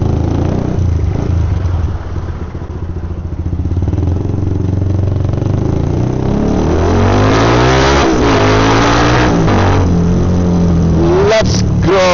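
Traffic noise from a motorcycle ride: a mid-pitched engine revving and accelerating up close, with passing vehicles and wind rumble around it, loud and steady throughout.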